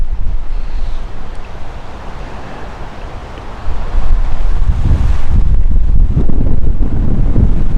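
Dust-storm wind in Boise, Idaho hisses steadily at first, then a powerful gust slams in midway and pounds the microphone with loud, rough rumbling until the end, with no talking.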